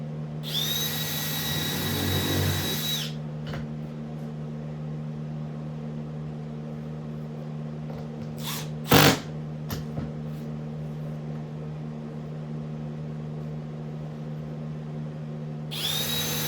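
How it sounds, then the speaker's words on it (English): A power drill spins a new countersink bit on a boat hatch cover, a close, loud whirring run at the start, a sharp knock mid-way, then the drill whining up again at the end. "Boy, it's nice to have nice new countersink bits."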